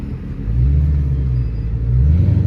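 A Dodge Challenger Scat Pack 392 V8 rumbles deeply at idle nearby, swelling into a heavier throaty growl as the engine revs slightly, with no talking.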